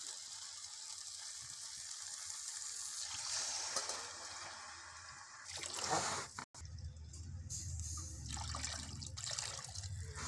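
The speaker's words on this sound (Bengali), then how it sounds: "2 বাটি চাল নিয়েছি, 4 বাটি পানি দিয়ে দেবো।" Water pours into a pot of spiced rice and potatoes for a beef rice biryani, with a soft sizzling hiss giving way to a rushing splash and a brief cut before quieter bubbling.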